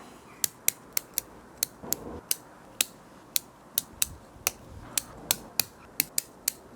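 Pruning shears snip repeatedly through the thin ends of a thuja bonsai, giving about a dozen crisp, close clicks at a fairly steady rhythm with a faint background rustle.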